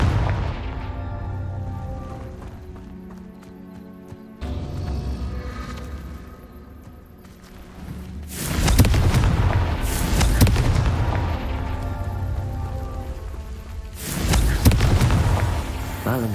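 Confringo fire spell blasts in the Hogwarts Legacy video game: two loud, booming bursts with crackling tails land against a backdrop of game music and effects.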